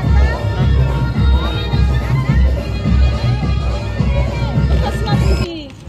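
A dense crowd murmurs and chatters at the Shanteshwari palanquin festival of 2024, a loud, steady hubbub of many voices close by that continues unbroken for several seconds before cutting off abruptly.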